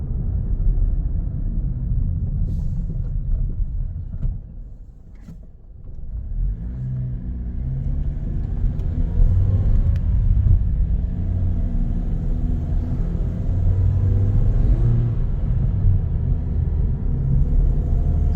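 A car with a fully slipping clutch shifts into second and then almost at once into third gear, its engine rumbling low with a dip, then rising in steady droning revs close by.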